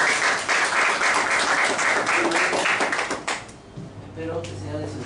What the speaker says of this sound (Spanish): Un fuerte aplauso para recibir a nuestro expositor